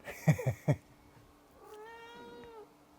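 A cat meows close by in a quiet room, giving a few short chirping calls followed by one longer drawn-out meow.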